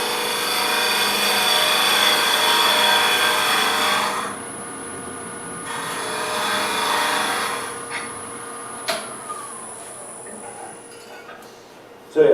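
A carbide tool shears shavings from a spinning workpiece on a lathe, a loud rushing scrape that eases off partway through, followed by quieter scraping, a few knocks and a short loud burst at the end.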